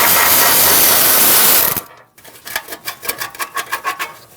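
A ratchet works a 10mm nut on a Ram 2500 exhaust shield, giving a close, rapid series of about a dozen rhythmic clicks after a burst of loud hissing noise that cuts off abruptly.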